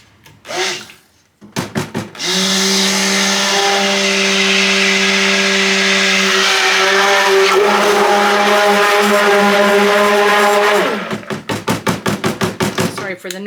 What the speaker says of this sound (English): Sorry for the noise. I'm just mixing up my milk and colloidal oats